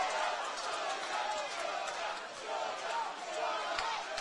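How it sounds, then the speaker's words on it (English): Video game fight crowd roaring and chattering steadily throughout, a dense, continuous wash of cheering arena noise with no pauses. "Crowd really on their feet for this one, making plenty of noise."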